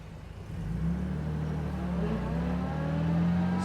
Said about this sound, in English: We're idling here at around 700 RPM.